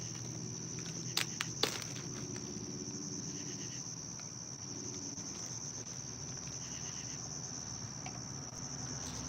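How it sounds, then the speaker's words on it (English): Crickets chirp in a continuous high trill throughout, with a few soft taps and footstep-like sounds early on. "I mean, I hear crickets"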